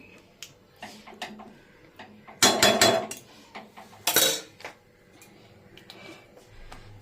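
A lid set down over a cooking pot of methi chicken, giving two short, bright metallic clanks amid scattered lighter kitchen clicks and taps, fairly close.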